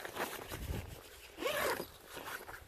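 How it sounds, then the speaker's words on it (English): A Snugpak Scorpion 2 coyote tan tent door is zipped shut, a short close rasp with one brief pulled stroke, no talking over it. "Let's just zip her up and"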